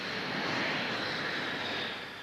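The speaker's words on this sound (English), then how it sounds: "Harry's first Hornet flight begins" A Hornet jet roars steadily in flight, a loud and broad sustained engine rush that holds level, then eases slightly at the end, with no voices.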